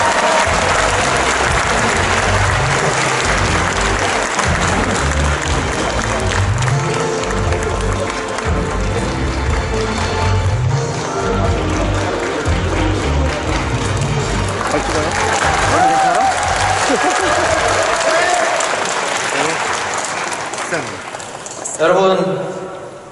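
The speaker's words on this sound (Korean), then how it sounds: "뜨거운 박수로 환영해 주시기 바랍니다." An audience at the 2019 basic income expo in Korea applauds loudly and steadily for about twenty seconds before the clapping thins and fades out, with no talk over it.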